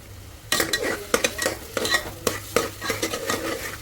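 Chopped onions frying in a pan for jackfruit seed mutton curry, stirred with a spoon in quick repeated scrapes and clinks over a steady sizzle, close and fairly loud after a quiet start.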